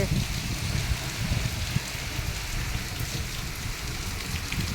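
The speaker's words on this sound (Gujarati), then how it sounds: "મસ્ત રીમઝીમ વરસાદ પડે છે ઝરમર ઝરમર ઝરમર" Steady light rain of the first monsoon shower falls in a soft, continuous patter, with an even hiss of drops hitting surfaces nearby and no voices.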